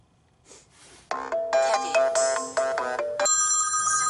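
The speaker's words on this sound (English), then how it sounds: "So now it's going to call her phone." An outgoing call tone plays through a JVC KW-R930BTS double-DIN car stereo in a 2005 Toyota Echo hatchback, a loud melodic electronic ring pattern with stepped tones, close and without talk.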